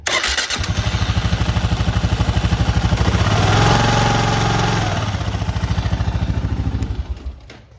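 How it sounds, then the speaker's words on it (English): A Kawasaki KLR motorcycle engine with a loose timing chain starts and runs up close, a loud rhythmic thumping idle with a clattering mechanical edge, swelling briefly in the middle before settling and fading at the end. "we're getting the noise from the timing chain, so we're gonna have to tighten up the timing chain balancer"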